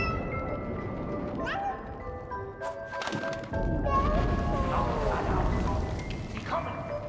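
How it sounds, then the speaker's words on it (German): A cat meows several times amid in-game combat noise in the video game 11-11: Memories Retold, rising cries layered over thuds, rumbling and shouting voices. "Get away, cat!"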